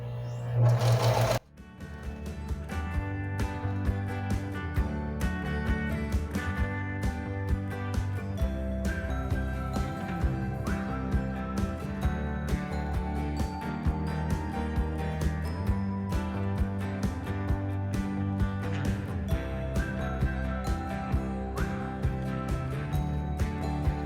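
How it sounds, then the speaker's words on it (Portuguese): A sewing machine stitches capri pants, running close and loud with a fast, steady mechanical chatter after a brief start, continuing without talk. "Agora é só ir costurando, passando os dentinhos dentro do túnel."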